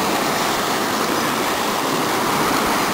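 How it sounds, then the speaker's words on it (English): A fast river rushing past a cement slab at around 26 miles an hour gives a loud, unbroken roar of churning water, steady and close, with no voices. "The river goes about 26 miles an hour past here."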